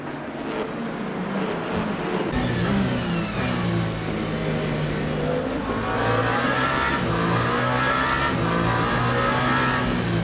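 Race car engines at Le Mans in the video game Le Mans Ultimate, a loud continuous roar with rising revs and shifting engine tones as cars run together, no pauses.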